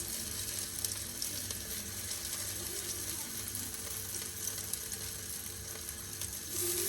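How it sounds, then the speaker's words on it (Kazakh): Zucchini pancakes frying in hot oil in a pan, a continuous close sizzle holding steady for several seconds with no talk. "Bismillah деп осылай аздап салып қуырып аламыз."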